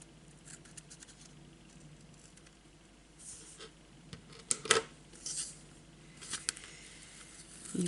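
Paper for a marine-themed card is cut with scissors: quiet at first, then several crisp snips and rustles cluster toward the end, close to the listener with no one talking.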